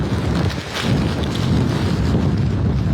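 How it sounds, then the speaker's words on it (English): Hurricane Helene's winds gusting over 80 mph at landfall in Cedar Key, Florida, a loud continuous roar of wind buffeting the microphone, heavy and unbroken throughout. "the winds are now gusting more than 80 miles an hour with Hurricane Helene"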